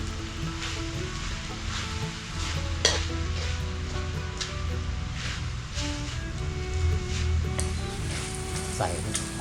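Pork with red curry paste and holy basil being stir-fried in a pan: a continuous close sizzle with repeated scraping stirs and occasional clanks, a faint tonal hum running underneath.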